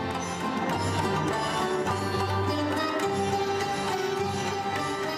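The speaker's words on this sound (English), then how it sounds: "This is the sound of an orchestra in exile." An Afghan youth orchestra in exile plays a steady, full ensemble passage, with sustained low tones and layered melodic lines holding at even loudness throughout.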